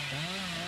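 In the video game Dead by Daylight, a chainsaw runs with a steady buzzing drone whose pitch rises slightly then settles, heard alone at moderate level.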